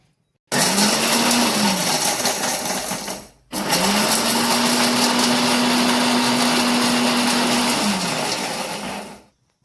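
Mixer grinder grinding roasted wet coconut and dried red chillies, a loud whirring motor run in two bursts with a short stop between, close and alone, the whine steady while running.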